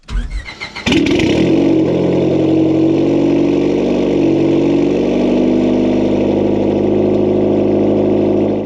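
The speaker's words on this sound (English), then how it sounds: "So let's fire this thing up and let it get up to temperature." Turbocharged Honda Civic engine cranks briefly, catches and fires, then settles into a steady, loud, close idle that holds without a break.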